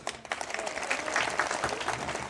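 Applause from a crowd at a football club's first training session, steady broadband clapping filling the whole short stretch at moderate loudness, with a voice faintly audible underneath.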